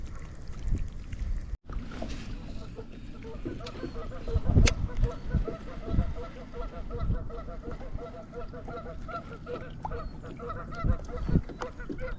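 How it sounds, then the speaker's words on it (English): Many geese honking repeatedly in a noisy outdoor flock, with water sounds and a brief thump partway through. "And there's a lot of geese here."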